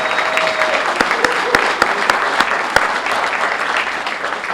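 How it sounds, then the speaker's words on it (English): Audience applause at an award ceremony, steady sustained clapping from a crowd with a few sharp individual claps standing out, filling the room for several seconds without speech. "deserves a round of applause"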